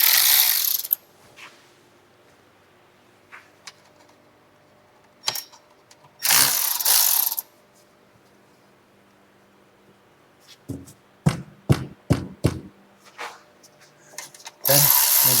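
Ratcheting clicks and short metallic tool bursts come from wrench work loosening the pan bolts on a ZF 8-speed transmission, in sporadic close bursts separated by quiet gaps.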